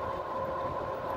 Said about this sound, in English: Let's just go through the gears.